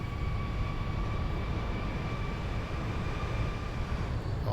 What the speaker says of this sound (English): I love the sound this airplane makes coming in.